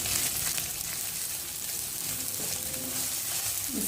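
Chopped ginger and garlic sizzle in hot oil in a pan, a constant crackling fry with faint stirring, close and steady with no talking.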